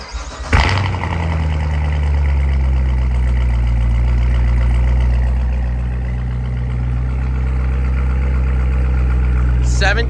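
Cold start of a 2017 Corvette Z06 indoors in a showroom: a sharp starter crank and loud flare, then a deep, steady rumbling idle that holds close and strong to the end.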